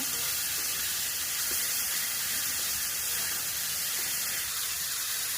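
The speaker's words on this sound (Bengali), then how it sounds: "মশলাটা ভালোভাবে কষিয়ে নেব।" Ground masala with green chillies fries in a pan, a steady close hiss and sizzle filling the whole stretch with no voices.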